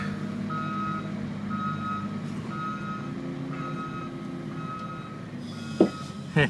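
A truck pulls away while its reversing alarm beeps steadily at a regular rhythm over a low engine rumble, ending with a couple of brief clunks.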